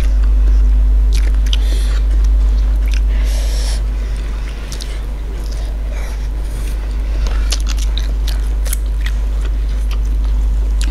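Sausage being chewed during a ghost pepper mukbang: close, wet mouth sounds and soft bites repeating irregularly over a steady low hum, with no talking.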